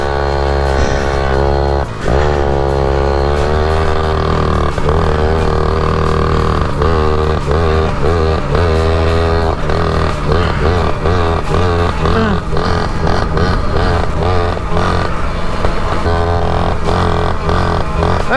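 A dirt bike fitted with a 60 kit runs loudly and close by, its engine note rising and falling through repeated revs with a buzzy, pulsing tone throughout.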